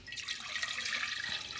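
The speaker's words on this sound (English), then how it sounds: "put some water in here" Water runs steadily from a tap into a clay pot in a kitchen sink, a soft continuous splashing hiss that stays even and fairly faint throughout.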